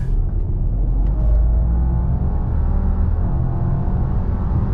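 A 2024 Subaru Legacy Turbo Sport with a CVT accelerating hard from 0 to 60, its steady loud engine drone and road rumble heard from inside the cabin without talk.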